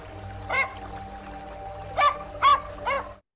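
Four sharp dog barks in quick succession, one alone then three close together, heard faintly over a steady electrical hum.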